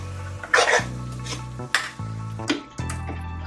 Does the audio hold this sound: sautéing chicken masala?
yes